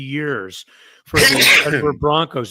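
A single sharp sneeze bursts out between stretches of someone talking on a sports talk show.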